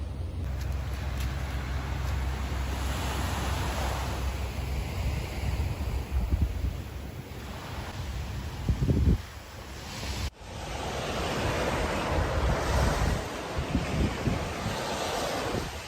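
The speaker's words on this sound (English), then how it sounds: "And now I'm actually at the beach where I wanted to be." Surf breaking at a Sydney beach on a hot day, with a continuous loud wash of waves and gusting wind buffeting the microphone, briefly dipping partway through before the roar returns.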